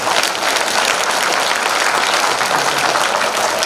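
Loud, dense applause from a seated audience at a book launch event, continuous and close for a few seconds with no talking over it.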